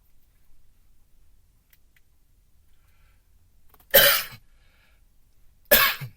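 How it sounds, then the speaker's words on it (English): Two sharp coughs from a person, close and loud, spaced about two seconds apart against an otherwise quiet room. "I had a cough."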